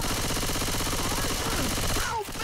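Rapid automatic gunfire in a zombie survival video game rattles on continuously and densely, close and loud throughout, and breaks off near the end.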